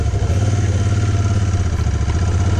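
A Royal Enfield Interceptor twin-cylinder motorcycle engine thumps loud and close in an even, rapid pulsing rhythm, steady throughout with no voices.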